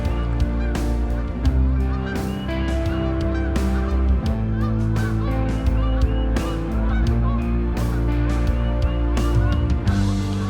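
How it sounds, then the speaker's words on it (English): A flock of geese honks loudly and repeatedly at a swampy beaver pond, their sharp overlapping calls coming close and steady throughout with no talking. "here comes some geese right here to talk"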